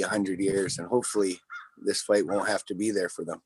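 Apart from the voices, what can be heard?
birds, likely crows, cawing in the background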